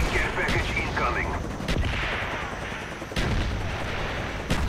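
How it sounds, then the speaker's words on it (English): Mortar rounds strike in the shooter game Black Ops 6, with several heavy booming blasts spaced a second or so apart over a rumbling battlefield din, and a voice briefly heard early on. "Friendly mortar is inbound."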